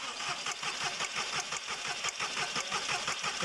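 A VW Polo 6R engine with heavy internal damage from a failed timing chain cranks over on the starter, a rapid, even churning rhythm that goes on steadily without firing.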